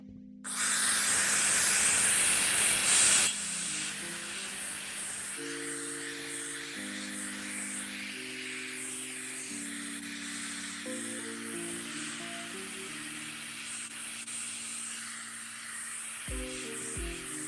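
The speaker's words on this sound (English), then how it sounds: "Now, I usually do not steam first." A steamer hisses steadily as it blasts gunk off a sneaker, loud and close for the first few seconds, then continues more softly beneath a bed of low musical tones.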